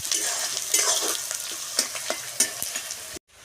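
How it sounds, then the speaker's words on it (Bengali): Prawns sizzling in a hot pan for prawn pulao, a steady close frying hiss with occasional stirring scrapes, continuous for about three seconds before cutting off abruptly. "দিয়ে এটাকে আমি লাল লাল করে ভেজে নেব"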